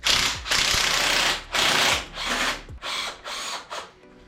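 A hand ratchet works on 10 mm bolts holding a plastic bracket on an engine, giving close bursts of fast metallic clicking, about seven separate runs with short pauses between them.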